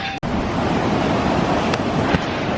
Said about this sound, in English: this is the Pulka River, and it flows through here